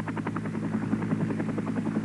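A helicopter in flight over Vietnam, its rotor beating in a steady rapid thump with a constant engine drone, close and continuous throughout.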